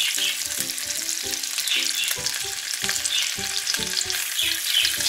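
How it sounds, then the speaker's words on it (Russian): Sausages fry in oil with garlic in a pan, giving a dense, continuous sizzle with crackling pops and occasional clinks of a utensil against the pan, close up and with no talking. "Все, закидываем их в сковородочку и обжариваем."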